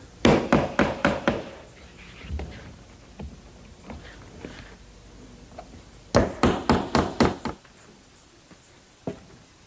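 A hammer tacks a straight edge onto the shingled roof of a dovecote, striking in two quick bursts of about five sharp knocks each, with scattered lighter taps in between.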